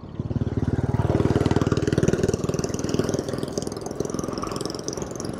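A BMW 310GS motorcycle's single-cylinder engine idles close by with a fast, even chugging pulse, loud and steady, with no talk over it.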